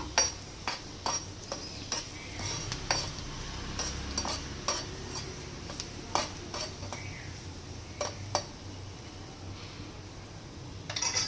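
Garlic fries in a pan with a steady low sizzle, while a utensil stirs it and sharp metallic clicks and taps land on the pan at irregular intervals, close and fairly quiet.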